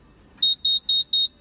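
An EMK V2 anti-theft buzzer on a Seadoo RXP300c jet ski sounds four short, sharp, high-pitched beeps in an even rhythm, clear and close against a quiet background.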